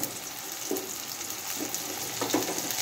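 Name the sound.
cauliflower added to frying pan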